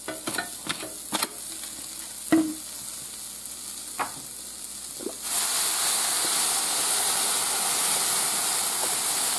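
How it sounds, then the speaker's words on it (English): Scattered clicks and taps from utensils on a hot griddle, then a loud, steady sizzle of onions sautéing that fills the rest of the clip. "we're gonna saute some onions first"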